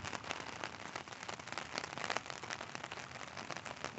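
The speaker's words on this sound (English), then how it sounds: "the rain's getting a little bit louder than I had anticipated it being" Steady rain pattering densely on a surface and water, a continuous close hiss with scattered drop crackles, no voices.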